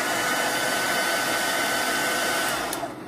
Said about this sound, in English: Mom got out her own blow dryer to see how much louder it is.